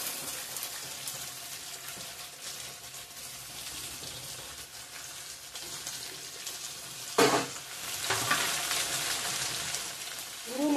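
Pre-fried potatoes added to a pan with garlic, producing a low steady frying sizzle that swells into a louder burst of crackling and stirring partway through, without any talk.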